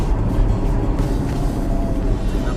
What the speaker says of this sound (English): The first time driving the Tatra, and I just took it down a narrow road.